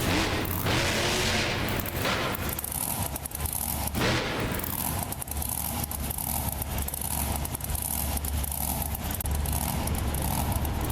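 A classic Ford monster truck named Thrasher rumbles through a BeamNG Drive Monster Jam event, its engine droning steadily with a few heavy thumps and crashes near the start.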